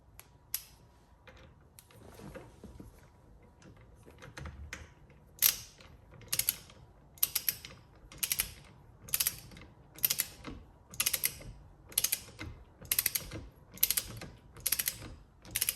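A hand ratchet tightening a 10mm screw behind a custom real carbon fiber steering wheel on a Tesla Model Y or Model 3, giving about a dozen evenly spaced bursts of quick clicking after some quieter fiddling, close and crisp with no talking.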